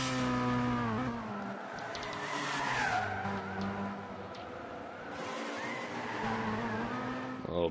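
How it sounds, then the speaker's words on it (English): Race car tires squeal and skid with engine noise as a Mercedes slides through a corner at Suzuka in Gran Turismo 6, a continuous loud screech that wavers in pitch. "Bambi's skidding around that second corner with that Mercedes"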